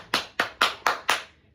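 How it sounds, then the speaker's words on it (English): Five sharp hand claps in a steady, evenly spaced rhythm, close and crisp, each with a quick decay and no voices over them. "I can clap very loud."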